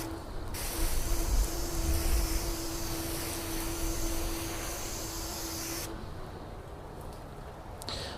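A sealant spray bottle set to mist gives off a steady, close hiss of fine spray that lasts several seconds before cutting off and leaving a quieter background.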